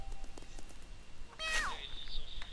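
A kitten pet in the video game Wakfu gives a short rising-and-falling meow, fairly faint amid quiet game background.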